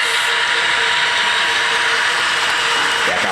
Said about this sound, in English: You can see the train going around the loop